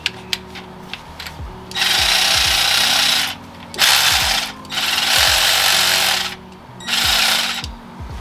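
A Tool Pro power tool undoes the alternator mounting bolts on a 2H 60 Series engine, sounding in three loud, sustained whirring bursts of a couple of seconds each, separated by brief pauses and clicks of the ratchet mechanism.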